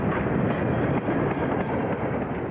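A massive ten-driving-wheel 9F steam locomotive hauling a heavy freight train of nearly 1,200 tons on a mainline, heard as a loud, continuous rumbling roar with no let-up.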